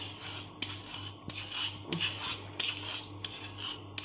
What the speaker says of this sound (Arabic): باش نوريكم لاستيوس كيفاش ندير لي كوبو دو شوكولا